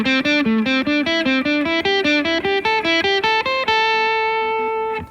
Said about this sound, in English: My 4-note grouping would sound something like this.